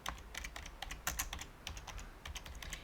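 Rapid keystrokes on a Mac keyboard as a folder name is typed, a quick uneven patter of light clicks close by with no voices.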